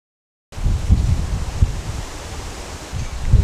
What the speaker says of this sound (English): I hope you can hear me over the wind.